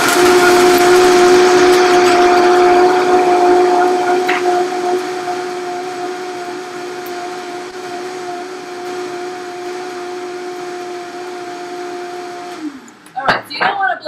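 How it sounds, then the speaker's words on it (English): A loud blender blending nuts whirs with a high whining tone that steadies and slightly fades, then cuts off, followed by a few clunks and rattles. "I'm gonna turn it on and we're gonna blend it."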